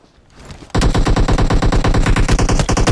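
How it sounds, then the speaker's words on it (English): Automatic gunfire in PUBG Mobile erupts after a quiet start, a loud rapid sustained burst of evenly spaced shots filling the rest of the moment. "Cheetah is taking heavy fire from Boss"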